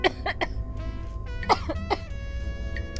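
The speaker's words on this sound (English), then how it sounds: "something that would make me laugh so hard I would start coughing" A woman coughs in several sharp, close bursts, with wheezy breaths and throat sounds between them, after laughing hard while playing a video game.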